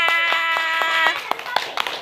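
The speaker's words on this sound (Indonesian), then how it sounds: "Tepuk tangan untuk kalian semua." Children clapping in a classroom, a short run of evenly spaced claps, close and distinct, with a voice in the background.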